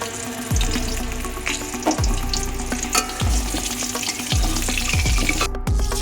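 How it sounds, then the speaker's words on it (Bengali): Potato pieces frying in hot mustard oil with cumin seeds in a home kitchen: a steady, close, loud sizzle broken by periodic stirring scrapes and clatters, with no voices. "এই যে আলুগুলো কেটে রেখেছি এই আলুগুলো তেলের উপর ভেজে নেব।"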